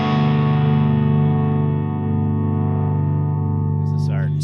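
Electric guitar played through a Nobels ODR-1 overdrive pedal, a sustained driven chord ringing steadily and fairly loud, slowly decaying with a faint pick scrape near the end, no talking over it.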